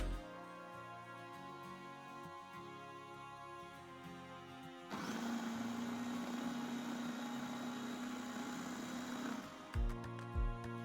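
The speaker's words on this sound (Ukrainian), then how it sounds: "додаємо до цибульки та збиваємо блендером" A blender motor whirs loudly for several seconds blending zucchini and onion, switching on and off abruptly, with quieter kitchen background before and after.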